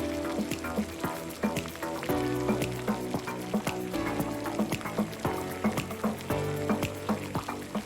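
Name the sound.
ginger paste frying in oil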